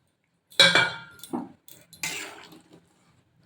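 A lid goes onto a pot of simmering hilsa and eggplant curry, giving a couple of close metallic clanks and clinks with short scrapes between them, then quiet.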